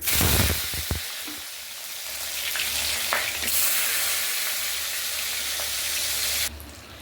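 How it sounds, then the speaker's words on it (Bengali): Salted brinjal slices frying in hot oil, a loud, dense and continuous sizzle heard up close, steady throughout before cutting off sharply near the end, with no speech. "এবার বেগুনগুলো আগে ভেজে তুলে রাখবো।"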